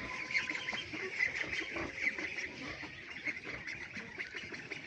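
Domestic ducks quack in a scattered, repeated chatter at a moderate distance, fairly faint over a low background murmur.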